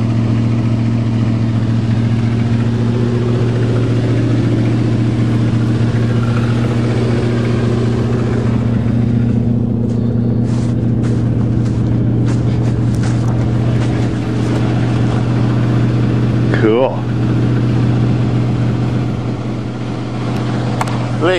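A 1976 Chrysler New Yorker with a 400 big block idles steadily after a deep snow start, its deep even drone continuous throughout, with brief clicks and rustles partway through.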